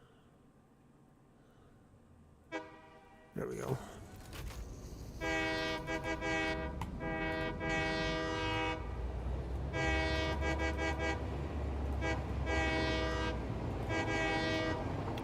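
A train whistle from the factory-building game Satisfactory sounds in long, loud, repeated blasts over a rumbling rolling train, with a brief spoken remark just before the whistling begins.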